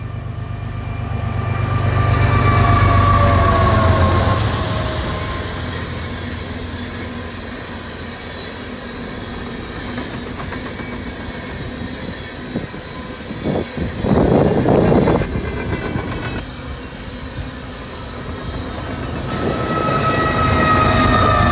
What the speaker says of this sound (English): a westbound empty coal continues its journey back to the Powder River Basin.